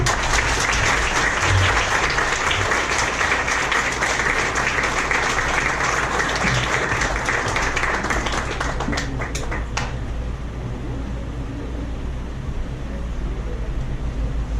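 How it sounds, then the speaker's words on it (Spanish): A conference audience claps loudly and continuously for about ten seconds, then the clapping fades into a low room rumble. "Un fuerte aplauso, por favor."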